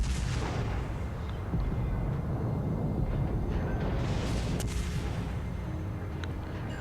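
Naval guns of the Bogatyr, a tier 3 Russian cruiser in World of Warships, booming at a battleship amid a continuous rumbling battle roar, with a few sharper cracks rising over the dense low din.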